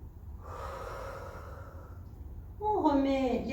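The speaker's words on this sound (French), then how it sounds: "Donc la respiration profonde qui détend." A slow, deep, relaxing breath in and out during a gentle joint-mobility exercise, audible as airy breathing that ends in a brief voiced exhale.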